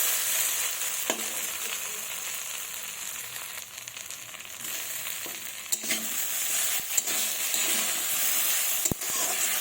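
Chopped tomato going into nearly boiled potatoes frying in a pan for a fish curry, a steady hissing sizzle with scattered clicks and scrapes of stirring, a few sharp knocks standing out near the end.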